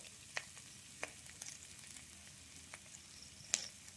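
Crispy chickpeas sauté in a pan for a pepper-salt dish with a faint, steady sizzle, broken by a few sharp scraping clicks from a spoon, quiet and close.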